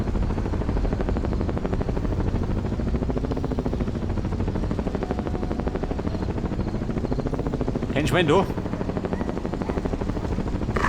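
Helicopter in Ghost Recon Advanced Warfighter, a loud, steady rotor chop that throbs evenly throughout, with brief gunfire-like bursts near the end and a short spoken line.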